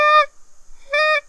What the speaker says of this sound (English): very comfortably blow air through the call. Sounds like this.